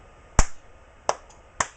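Three sharp, isolated hand claps, close and fairly loud, spaced unevenly with short pauses between them and no voices.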